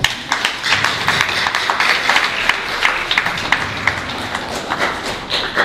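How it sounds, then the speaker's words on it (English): Audience clapping for students graduating from a drawing and painting studio, a steady patter of many hands sustained for several seconds with uneven sharp claps, no talk over it. "I want you to give an applause for all the students who are graduating today"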